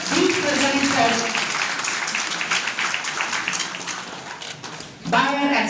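An audience claps at a 2025 organic farming buyer and seller meet in Jharkhand, a steady round of applause with a voice talking over it at the start and again at the end.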